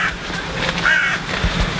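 A tame crow caws close by outdoors, a few harsh rasping calls over steady background noise in under two seconds.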